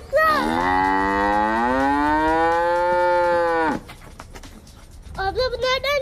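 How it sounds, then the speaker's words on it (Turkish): A cow moos once in a long, loud, close bellow lasting several seconds. Afterwards someone speaks briefly. "inek geliyor, saklan!"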